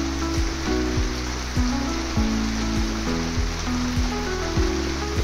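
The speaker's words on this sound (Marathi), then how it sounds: "गावाला भरपूर पाऊस पडतो, आता सुद्धा पाऊस आहे." Steady, dense hiss of rain pouring in a Konkan village during the monsoon, loud and continuous, with a soft melodic music bed running underneath.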